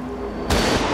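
A single sharp gunshot from the Xbox 360 video game Silent Hill: Downpour, loud and close, cracking out abruptly after a quiet moment.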